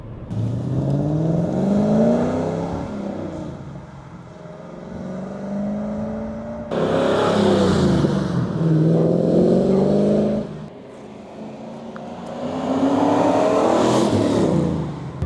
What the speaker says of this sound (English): And the legend who owns this one, Craig, has fitted a fatter exhaust on it from the extractors the whole way back. It just sounds so throaty